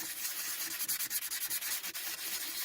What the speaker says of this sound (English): I'm sanding a bit of the table off